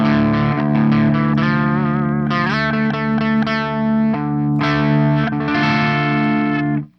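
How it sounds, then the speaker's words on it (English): An electric guitar plays through a 6505 amp on its green channel, not pushed into crunch: a quick series of picked chords and ringing notes, fairly loud and alone, ending with an abrupt stop. "Which is pretty much a clean tone for a 6505."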